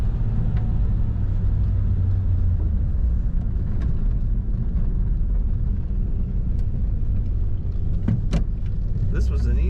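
A 1940 Ford Standard 5-window coupe drives steadily with a low, continuous engine and road rumble close to the microphone. Faint bumps and rattles come through, and the low drone holds at a constant loudness throughout.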